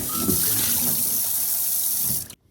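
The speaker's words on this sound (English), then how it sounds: "Also, wash the pot." Tap water runs in a steady gushing stream while a cooking pot is rinsed under it, splashing continuously for a couple of seconds before the flow shuts off abruptly.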